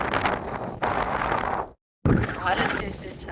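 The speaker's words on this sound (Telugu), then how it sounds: "గాలి వచ్చేసి చాలా బీభత్సంగా తోలుతుంది" Strong wind gusting across open ploughed farm fields, a heavy buffeting roar in long gusts with a brief dead-quiet break, close to the microphone.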